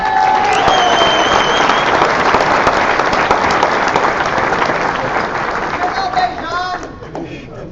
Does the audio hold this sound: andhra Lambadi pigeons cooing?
no